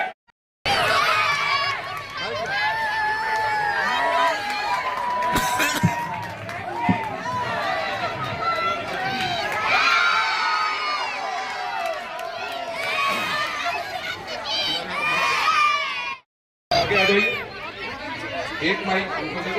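A dense crowd at a Hanuman temple event in Chhatarpur, India, fills the scene with continuous loud chatter, overlapping voices, shouts and bursts of cheering, with a short break near the end before the din resumes.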